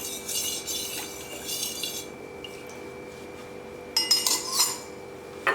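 A spoon stirs lemon juice into sugar syrup for homemade lemonade, producing light clinks and scrapes against the container: a burst at the start, a quiet stretch, then a few more chinks near the end.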